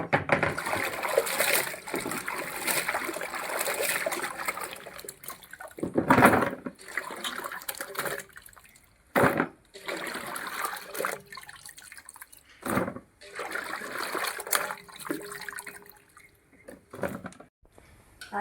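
Water pours and drains out of a kitchen cooking vessel in irregular bursts of splashing and gurgling, loud and close, with short quiet gaps between pours and no talking.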